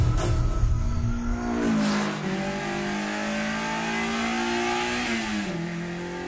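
A tuned car engine from the Initial D anime revs hard on a test drive, starting loud with rising and falling throttle, then settling into a steady, strained drone that shifts pitch as it accelerates, close and without talk.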